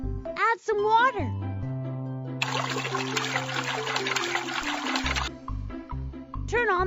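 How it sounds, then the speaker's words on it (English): Water poured into a concrete mix in a children's truck cartoon, a few seconds of bright splashing pour between cheerful musical tones and a child-like voice. "Add some water."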